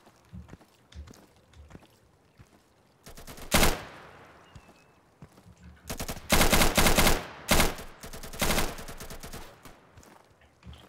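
An M249 SAW machine gun fires in a cooperative tactical shooter, loud rapid bursts of automatic fire repeated several times with short pauses between them, over faint footsteps and scattered distant shots.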